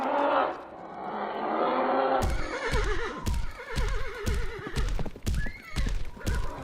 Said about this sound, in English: He provides a horse for Midnight